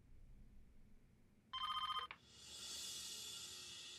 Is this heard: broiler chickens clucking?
no